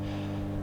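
A wind turbine drones with a steady, low mechanical hum at the tower base, without a break, with deep throbbing undertones. The sound is short and fairly quiet, and no one speaks.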